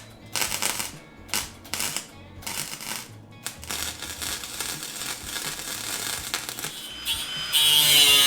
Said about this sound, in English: I need to fill them with a welder, so let's go and get that done right now.